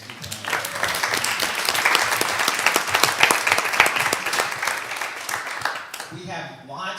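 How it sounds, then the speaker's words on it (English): An audience at a university pitch competition gives a hearty round of applause for supporting organizations, loud, dense clapping that swells and holds, then fades out, and a voice begins speaking near the end. "So give those two organizations a huge round of applause."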